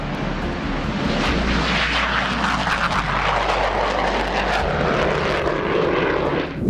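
A loud, sustained roar from a fighter jet engine of the Indian Air Force, a dense broadband rush that holds steady without a break for several seconds.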